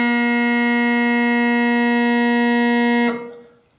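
Bagpipe tenor drone sounding through its reed, a steady, loud, buzzing sustained tone held alone for about three seconds before it cuts off and fades.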